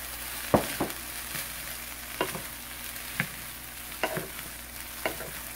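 Chicken fried rice with sesame oil stir-frying in a deep frying pan, a constant sizzle broken by several sharp scraping and tossing strokes of a utensil against the pan, close and clear.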